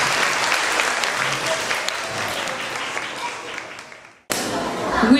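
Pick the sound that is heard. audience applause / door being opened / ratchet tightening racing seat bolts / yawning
audience applause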